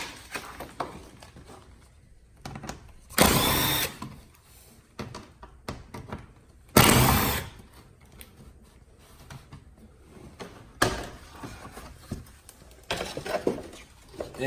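Bolts and push pins come out of a Fiat 124 Spider front end during an intercooler install, giving scattered close clicks, ratchet taps and light rattles, with a few louder broadband bursts of tool or panel noise and no speech.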